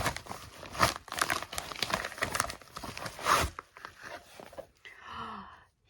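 Plastic or paper packaging crinkles and tears around a bound book being unboxed, a run of close, busy rustles that fades into quieter handling and a soft breath near the end.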